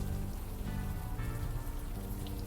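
Steady rain falls in the video game Unavowed, a continuous broadband hiss of drops on pavement with low rumbling underneath, constant and enveloping with no voices.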